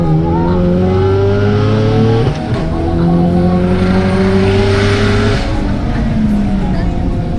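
A turbocharged race car with a Pulsar turbo and MaxxECU engine management accelerates hard in a head-to-head Gridkhana race. The engine note climbs loudly through rising pitches, drops at each gear change, then climbs again, while a commentator talks over it.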